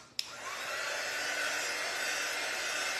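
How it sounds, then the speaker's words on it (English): A hair dryer blasts steadily to dry fresh paint on a DIY lemon craft piece, switching on with a click and then holding a loud, even whoosh close by. "I'm actually gonna have to hit it with the dryer real quick so that way it doesn't stick to the paper."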